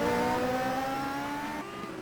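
A race car drifts through a corner in a sim racing game on the Singapore Grand Prix circuit. Its engine holds a high, steady whine that dips slightly, with a faint hint of tire squeal.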